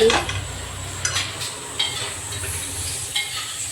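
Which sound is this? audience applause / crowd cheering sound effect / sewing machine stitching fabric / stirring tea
stirring tea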